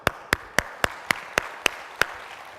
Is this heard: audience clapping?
yes